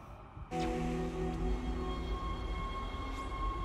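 A tram in the game Dead Space starts up after a short silence, then rolls on with a steady mechanical hum, layered tonal whines and a low rumble, with no talking.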